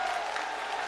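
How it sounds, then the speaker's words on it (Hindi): Loud, sustained clapping from a big crowd at a Bageshwar Dham religious event welcoming the Prime Minister, a continuous dense wash of applause. "पीछे तक हम सब जोरदार ताली बजा करके आपका"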